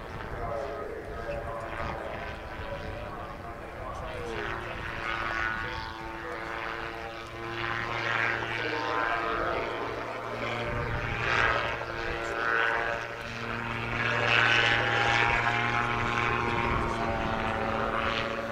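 A two-seat propeller touring aircraft performs a flying display at a seaside airshow, its engine drone rising and falling in pitch as it passes, beneath steady commentary from a man.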